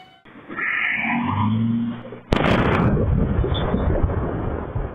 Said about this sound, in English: This is the moment when the blast went off.